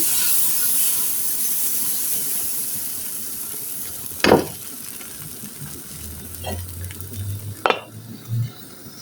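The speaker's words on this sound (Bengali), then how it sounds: "আরেকটা পিঠেও আমি ভাজিয়ে দেখাচ্ছি" Rice-flour chitoi pitha cooks in a pan with a soft, even hiss, while a few sharp scrapes and clatters of a utensil against the pan stand out over it, and low clunks follow near the end; no voices.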